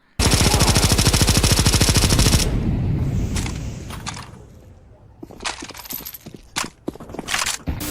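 A rapid, steady burst of suppressed automatic gunfire from Counter-Strike 2 for a couple of seconds, followed by scattered mechanical clicks and clanks.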